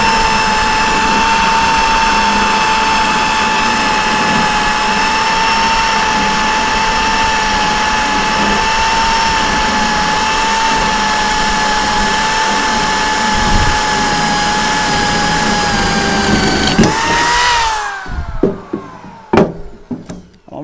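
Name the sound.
1/2-inch electric drill running on OUPES Mega 2 power station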